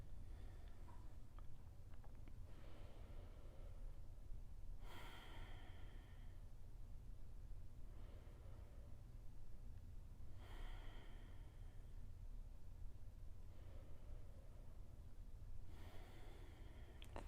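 Slow, calm yoga breathing during a spinal flow practice, with soft, even inhales and exhales through the nose repeating every few seconds, close and quiet over a faint background hiss.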